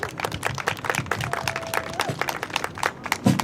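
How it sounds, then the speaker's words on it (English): Crowd applause at the 2023 March Against Gun Violence in Toronto, steady outdoor clapping from many people that runs throughout, fairly faint and diffuse, with scattered voices and cheers mixed in. "Give her a round of applause, everyone."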